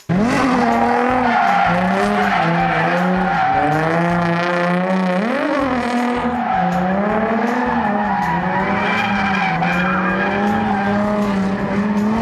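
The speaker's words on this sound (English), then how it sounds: "so you can enjoy a little bit of G35 drifting" An Infiniti G35 drifts hard, tires squealing continuously while the engine revs rise and fall, loud and close throughout.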